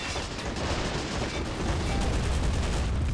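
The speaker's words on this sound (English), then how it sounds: "Our mortar's actually wrecking them." Mortar fire in the war strategy game Men of War: Assault Squad 2, a dense, continuous rumble of battlefield explosions and gunfire that stays loud throughout.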